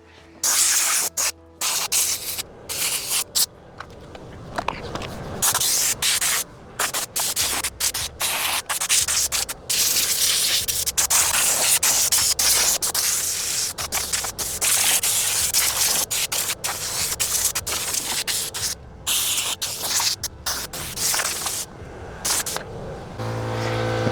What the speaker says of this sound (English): spray any loose debris, leaves, and dirt